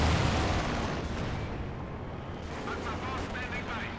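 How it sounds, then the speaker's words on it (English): Airborne guards strafing run in Company of Heroes 2, a dense roar of automatic gunfire and artillery-like blasts rumbling continuously and loudly throughout, with a voice speaking over the battle. "Strafing around that was from the airborne guards."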